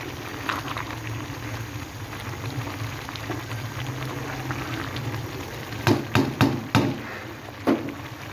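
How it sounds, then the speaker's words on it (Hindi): Water boiling off in a pot of Chinese rice as it cooks, a dense, steady bubbling and crackling hiss, with a few sharp clicks or taps near the end. "तकरीबन जो है ये पानी खुश्क हो रहा है, बस थोड़ा सा रह गया है"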